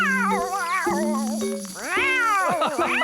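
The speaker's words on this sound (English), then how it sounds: "You've just made Pilchard a very happy cat." Pilchard the cat meows repeatedly, a run of loud, close, wavering cries with rising and falling pitch.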